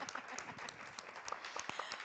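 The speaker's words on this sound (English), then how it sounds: "So please give them a round of applause." An audience at a community empowerment event gives a round of applause, a quiet, distant patter of many hands clapping in an uneven rhythm for a couple of seconds.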